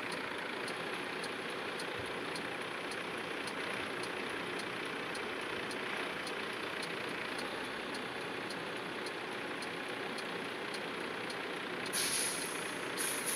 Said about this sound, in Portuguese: Olha só onde que o caminhão entrou.